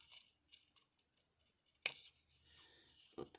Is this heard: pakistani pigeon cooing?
no